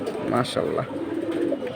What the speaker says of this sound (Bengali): থরের কবুতর এই যে হাতে অনেকক্ষণ আছে দেখতেই পাচ্ছেন